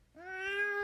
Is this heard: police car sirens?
no